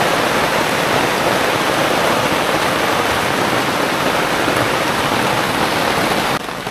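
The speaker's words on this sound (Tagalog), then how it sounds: "Mag alas 5 na, hindi pa huminto ang ulan." Heavy rain pouring down steadily in late afternoon, a loud dense unbroken roar of water close by that drops slightly at the very end.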